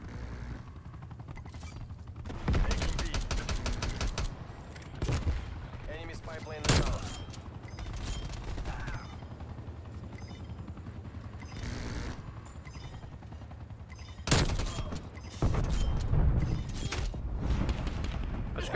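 Gunfire in Call of Duty: Black Ops Cold War during a deathmatch, with several loud bursts of automatic fire and sharp single shots spread through the clip over steady game background noise, and a player talking in between.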